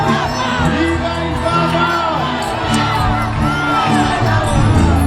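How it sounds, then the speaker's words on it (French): A large, tightly packed crowd waiting for Pope Francis during his 2019 visit to Mauritius, a dense continuous roar of voices with scattered shouts, whoops and children's cries, loud and sustained throughout. "une foule compacte qui ne bouge pas"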